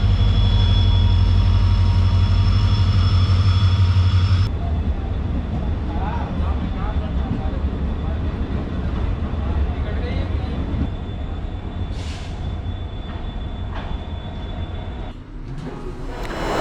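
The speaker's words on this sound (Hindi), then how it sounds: "ये है राजस्थान संपर्क क्रांति एक्सप्रेस जो अपने निर्धारित समय 22:25 पे दिल्ली सराय रोहिल्ला से बीकानेर की तरफ निकल चुकी है" The Rajasthan Sampark Kranti Express departs Delhi Sarai Rohilla toward Bikaner with a loud, steady rumble and a continuous hum, then a drop to lighter clattering rail noise, with a voice speaking over it.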